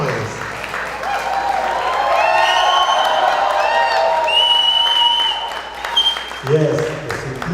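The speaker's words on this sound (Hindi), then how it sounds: "तालियों का गूंज" Audience applause and cheering at a live event, a dense sustained wash of clapping with scattered whoops, fairly loud, giving way near the end to a voice speaking.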